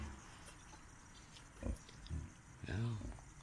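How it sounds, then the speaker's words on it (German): Mini pigs at a wildlife park in Schleswig-Holstein give a few low, close grunts and oinks, the last one longer. Quiet outdoor ambience runs underneath and people murmur faintly. "Minischweine."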